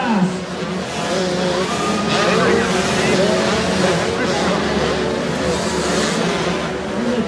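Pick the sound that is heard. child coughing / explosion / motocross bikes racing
motocross bikes racing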